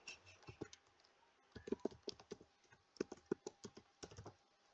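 Fingers type a password on a computer keyboard in quiet, uneven clusters of light key clicks with short pauses between bursts.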